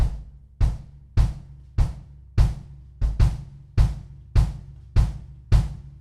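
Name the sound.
bass drum part of a shuffle groove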